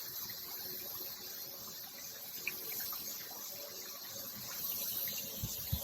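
Water trickling and babbling steadily nearby, like a small creek, with a high insect drone running constantly in the background.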